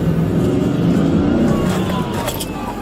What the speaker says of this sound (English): he backs up into a waiting trooper's car while another plows into him from the front